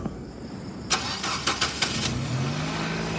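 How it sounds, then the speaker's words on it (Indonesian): The 1.8-litre engine of a 2012 Nissan Grand Livina HWS cranks in several quick, rhythmic bursts, catches, and settles into a smooth, steady idle, heard close with no voices. "Ini suara mesinnya nih, halus, standar normal"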